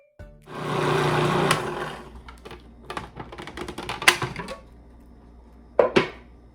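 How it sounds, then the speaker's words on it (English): A kitchen food processor whirs steadily while oil streams in to emulsify a homemade Caesar salad dressing, then gives way to uneven rattling and clattering bursts, with a couple of sharp knocks near the end. "turn on your processor and just slowly stream it in"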